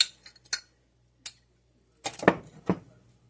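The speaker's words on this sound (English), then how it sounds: "Mix the rest of this egg in with our coconut and sugar" Spoon or whisk clinking against a bowl while egg is mixed into coconut and sugar for a coconut-topped sweet bread: a few sharp, close clinks and scrapes separated by short pauses.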